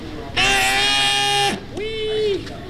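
An electric balloon inflator filling a 160 twisting balloon, a loud close whining buzz for about a second, followed by a shorter, softer second burst.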